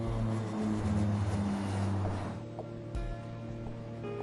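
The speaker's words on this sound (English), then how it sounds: "Air Illinois Flight 710 departs from Capitol Airport in Springfield" The Air Illinois Flight 710 aircraft departs from Capitol Airport in Springfield, Illinois, its propeller engines droning loud and steady, then the tone thins and eases as a few clicks and knocks sound.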